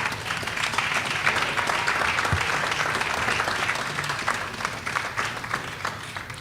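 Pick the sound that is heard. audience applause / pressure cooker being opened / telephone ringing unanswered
audience applause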